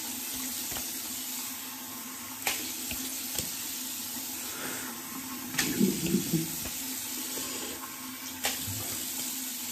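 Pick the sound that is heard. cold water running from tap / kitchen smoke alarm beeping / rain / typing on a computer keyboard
cold water running from tap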